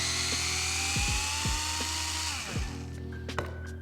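A powered 2.5mm hex driver backs screws out of the underside of an ARRMA Boost RC car chassis, giving a steady motor whine broken by several quick pitch dips as each screw loosens, then easing off.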